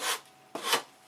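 Sanding a model aircraft wing tip into shape, two long abrasive rasping strokes in close succession, each rising and fading, heard alone.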